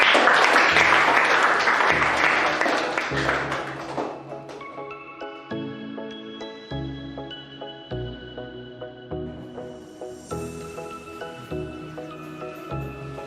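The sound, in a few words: audience applause for group 2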